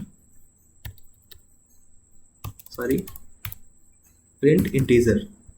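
Computer keyboard typing Python code, with scattered single key clicks followed by two denser bursts of close typing, under quiet talk in Hindi.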